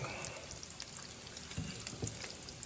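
Bacon sizzles on a flat breakfast griddle, its grease draining toward a catch pan, giving a steady close crackle with scattered sharper pops and a soft scrape or two, with no voices.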